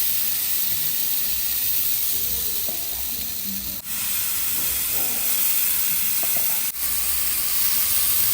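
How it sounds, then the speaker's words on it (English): Continuous bright sizzling of mini pancake batter frying in hot coconut oil, steady and close, with a couple of brief clicks breaking the hiss. "it's time to fry our mini pancakes"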